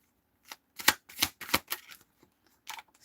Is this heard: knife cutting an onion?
no